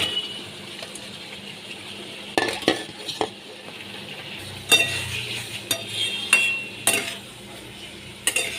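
A spoon scrapes and clinks through fried potatoes in a pan with poppy seed paste, salt, sugar, turmeric and a little water, in irregular bursts over a low simmering hiss.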